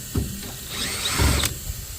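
A power drill backs rusted screws out of a furnace burner assembly on a commercial package heating unit, with two short whirring bursts and a clatter of metal, close and without talk.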